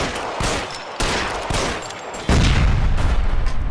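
Gunfire in the LA Noire video game, a rapid loud shootout with sharp overlapping shots and sustained bursts that grow heavier toward the end, with no voices.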